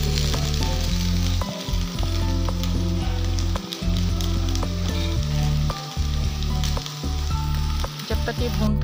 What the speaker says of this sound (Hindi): दोनों को लगभग 2 मिनट के लिए ही हमें भूनना है लगभग तेज आंच पे